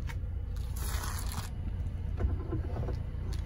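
A semi-electric tow hitch on a 2018 Volvo XC40 T4 AWD unfolds beneath the car, giving a faint mechanical whir with light scraping and clicking over a low steady rumble.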